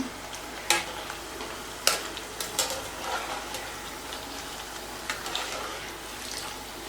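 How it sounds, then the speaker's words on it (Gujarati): Jowar flour puris frying in hot oil give off a steady, busy sizzle, broken by a few sharp clinks and scrapes from stirring, with no talking. "ચલો આવી જ રીતે આપણે દરેક પૂરીને તળી લઈએ"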